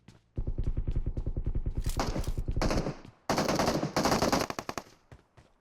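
Loud automatic gunfire in PUBG Mobile, a long rapid burst followed by a second heavy burst of overlapping shots, then a few trailing single shots, with no talk.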